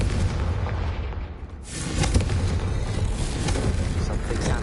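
Confringo explosive spell in Hogwarts Legacy, a loud booming blast with a heavy low rumble that swells after a brief dip and rolls on continuously.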